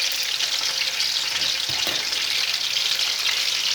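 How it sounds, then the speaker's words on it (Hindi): Chicken frying in a pot for aloo gosht, a loud, steady, close sizzle of hot oil with faint stirring scrapes partway through. "चिकन को अच्छी तरह फ्राई कर लेते हैं।"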